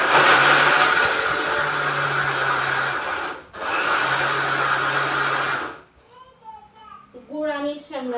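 An electric grinder blends jaggery and peanuts for sweet laddoos, running with a steady loud whir that briefly stops and starts again. The motor then cuts off and someone speaks.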